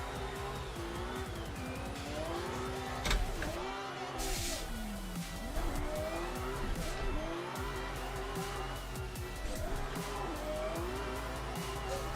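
Engine drone and tire squeal from a drifted car in a racing video game, a continuous loud roar with rising and falling revs and sliding screech throughout, no speech over it.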